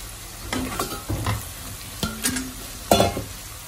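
Potatoes sizzle in a home kitchen pan while a utensil stirs and scrapes them in several distinct bursts over a steady frying hiss, with no talking.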